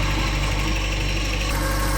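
An engine idles steadily, running high with a loud, continuous throbbing drone and vibration, close by and with no talk over it.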